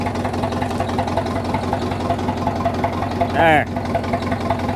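Ram pickup truck engine idling steadily after finally starting, a low continuous rumble throughout, with a brief whistling chirp near the end and a voice over it.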